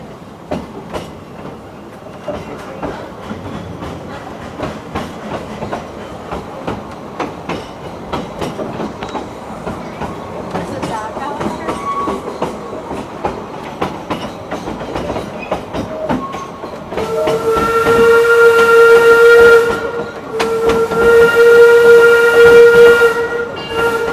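Narrow gauge steam train at the Hesston Steam Museum running along the track with rhythmic chuffing and clatter, then two long, loud steam whistle blasts near the end.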